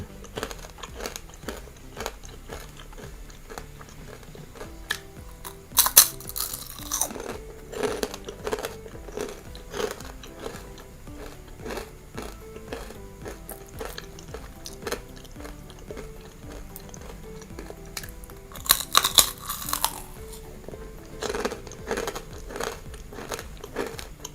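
Someone bites and chews crunchy baked vegetable crisps, loud close crunches in two main bursts followed by long stretches of softer chewing and bag crinkling, no talk.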